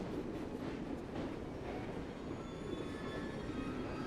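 A train ride in Assassin's Creed, with a steady low rumble of rolling rail cars and faint high wheel squeals throughout, continuous and fairly quiet with no voices.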